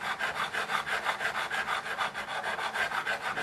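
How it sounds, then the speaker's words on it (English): Guitar frets rubbed and polished to remove scratches, an even back-and-forth rasping stroke repeating about four times a second, close and steady with no voices. "we're going to hide all these scratches by polishing up the frets"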